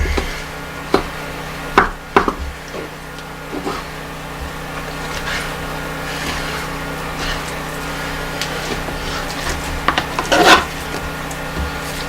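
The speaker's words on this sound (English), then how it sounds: "You're going to want to use a longer, sharper, like fillet knife type thing for this." A fillet knife slicing through a wild turkey breast, with soft repeated rubbing and cutting strokes and a few sharp knocks against the board, close and without speech.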